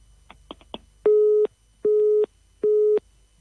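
A telephone line after a dropped call gives three loud, steady busy-signal tones with even gaps between them, following a few faint clicks at the start.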